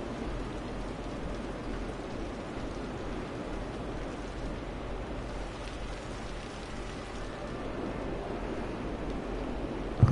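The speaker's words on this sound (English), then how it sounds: "I love the sound of the rain in this game" Steady rainfall from the city-building game Cities Skylines, a dense even hiss of drops on surfaces that holds evenly throughout with no voices over it.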